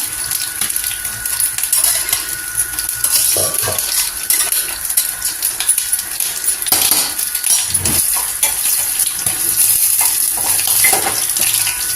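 Steady dry rattling and scraping in a pan as rice is stirred and fried, continuous and close with occasional metallic clinks.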